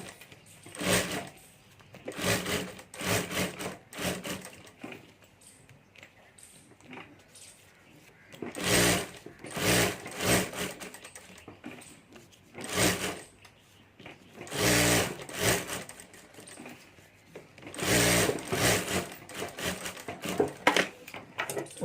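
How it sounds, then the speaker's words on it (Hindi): A sewing machine stitches handbag lining in repeated bursts, each run a fast mechanical whirr of a few seconds separated by pauses with faint handling and fabric noises. "यहाँ भी ऊपर में एक सिलाई कर देनी है"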